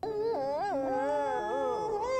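Dogs in a pound in the animated film Lady and the Tramp howl and whimper together, wavering mournful cries rising and falling in pitch, clear and continuous.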